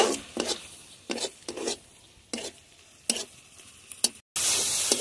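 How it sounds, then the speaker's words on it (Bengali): Cauliflower florets fried earlier now tossed with spices and green chillies in a hot pan, a spatula scraping and stirring in repeated strokes over a soft sizzle, close and clear with no talking. "সব কিছু একসঙ্গে এখন খুব ভালোভাবে কষিয়ে নেব।"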